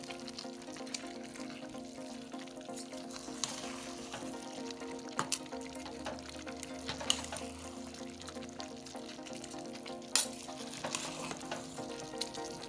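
A pot of yam and plantain porridge with okra simmers and sizzles on a reduced flame while a spoon gives it a final stir, producing soft scraping and occasional sharp clinks against the pot, fairly quiet and close with no voices.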